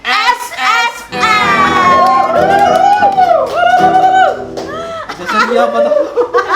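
Loud crowd noise greeting a special guest on a talk show stage, with cheering, shouts and laughter swelling together, close and dense, and voices calling out over the mix.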